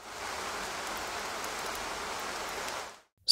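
Steady rain ambience from a HomePod mini smart speaker, a dense even wash of falling drops throughout, then cutting off abruptly near the end before a brief loud burst.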